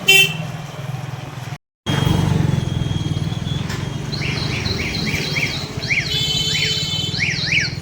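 Auto rickshaw rumbling through busy traffic, engine chugging close by while repeated short car horn toots and higher bird-like chirping horns sound around it after a brief cutout.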